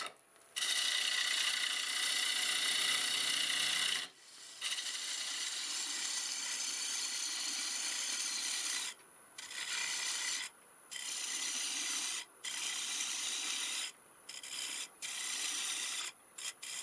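A 1/2 inch bowl gouge cuts a wooden bowl spinning on a lathe at about 975 RPM, making a steady, loud rasping hiss. The hiss breaks off briefly several times as the tool lifts from the wood.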